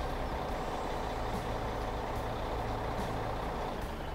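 A truck pulling a very long trailer in Farming Simulator 2017, its engine droning steadily at a fairly low level while it sits stuck, with faint hissing pulses of air brakes and no speech.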